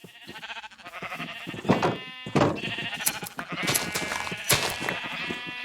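Sheep in the Minecraft video game bleat repeatedly, overlapping wavering cries that keep coming at a steady moderate loudness with no talk.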